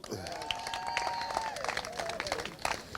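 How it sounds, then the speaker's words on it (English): Applause and some cheering for the 2022 British Kart champion at a prize event, with scattered claps under a tonal hum and a voice talking over them. "one more round of applause for your 2022 champion, Charlie Turner"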